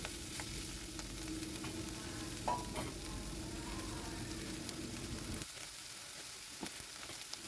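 Sliced scallions and celery fry in a pan with a steady, close sizzle that runs for about five and a half seconds and then drops away, leaving only a faint hiss and a few light clicks.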